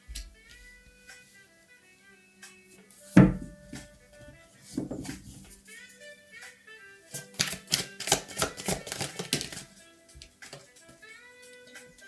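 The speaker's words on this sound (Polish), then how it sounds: "Sypią mi się karty." Tarot cards spill and are shuffled: a quick flurry of crisp card flicks and slaps after a single sharp knock, close and quiet, with long near-silent gaps in between.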